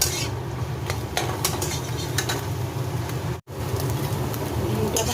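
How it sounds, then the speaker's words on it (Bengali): An egg fries in oil in a karahi with a steady, close sizzle, while a utensil stirring and scraping in the pan adds bursts of sound. The sound drops out briefly for a moment midway. "ডিমটা ভাজা হয়ে গেছে, এবার উঠিয়ে নেব।"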